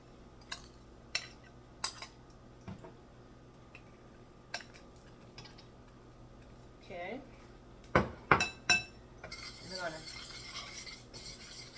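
Melted butter and sweeteners stirred in a saucepan: sparse taps and clicks of a utensil at first, then a cluster of louder knocks and a brief scraping stir near the end, all fairly faint.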